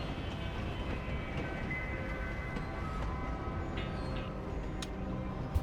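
A moving train in the video game Railgrade, a steady rumbling rail roll with a constant low drone and faint rhythmic clatter, ending in a brief sharp click.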